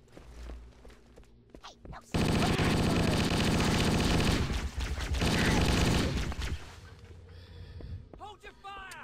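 Sustained automatic gunfire in Halo, a loud, dense rattling fusillade lasting several seconds before cutting off, with scattered footsteps and game noise around it.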